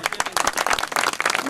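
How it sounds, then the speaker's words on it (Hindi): An audience gives enthusiastic applause to welcome a speaker at a gathering, a burst of rapid, uneven clapping from many hands, loud and close, with a brief voice underneath. "आप सब लोगों से गुजारिश करता हूं उनका जोरदार ताली से स्वागत करें"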